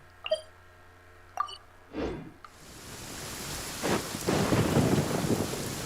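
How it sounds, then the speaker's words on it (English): Rain and thunder in the Genshin Impact game: a few brief tones and a soft low rumble give way to steady, hissing rainfall that swells louder as thunder rolls beneath it. "It always rains when I go on an adventure."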